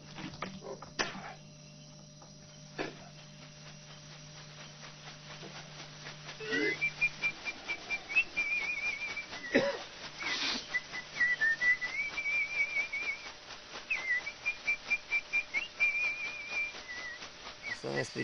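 Shaman whistling a melodic chant during an ayahuasca ceremony, a series of short repeated whistled phrases over a quiet room, with faint soft tapping and a low hum.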